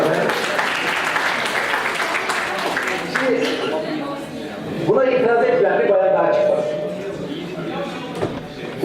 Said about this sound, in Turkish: Alkışlarla Sümeyye'yi alalım